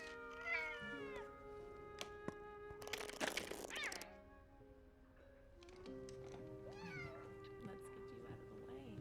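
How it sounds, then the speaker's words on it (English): A cat in the video game Telling Lies meows several times, close and plaintive, with game dialogue and a burst of noise around it. "Jesus, you're a fucking cat."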